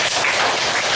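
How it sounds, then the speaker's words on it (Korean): A church congregation breaks into applause, a dense, steady wash of many hands clapping at once that fills the whole moment without a pause. "박수 한번 쳐주세요."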